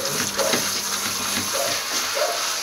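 Running tap water pours steadily while a cat is washed, a continuous close splashing stream with brief gurgling swells and no talk.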